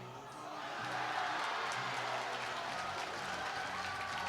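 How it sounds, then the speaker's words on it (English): Ice hockey crowd at a Montour versus West Allegheny game, a broad sustained roar of cheering and applause swelling up after a goal and staying loud and dense throughout. "the crowd's still buzzing from the exchange of goals"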